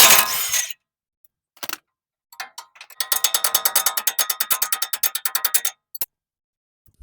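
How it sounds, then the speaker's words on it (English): A ratchet fitted with a 19 mm socket works a lower strut bolt on a Toyota truck suspension, giving a close run of rapid, evenly spaced clicks after a few scattered knocks and a louder opening clatter, no talk. "for the lower bolt and nut, we're going to be using a 19 millimeter socket and a 19 millimeter wrench."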